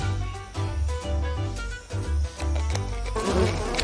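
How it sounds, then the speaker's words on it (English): Angry bees buzz in a dense, wavering drone that swells and dips in pulses, loud and close over a backing of music. "Bees! They're so angry!"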